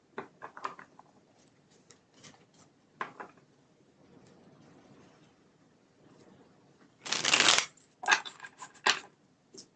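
Tarot cards shuffled during a live reading, a soft scattered riffling with one loud dense burst of rapid card flutter near the end, followed by a couple of shorter riffles, close and fairly quiet.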